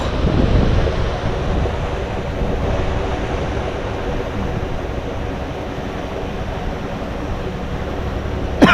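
Fresh irrigation water pours into a tilapia fish pond, producing a loud, continuous rushing wash with wind-like roar that holds steady from start to finish, no voices over it.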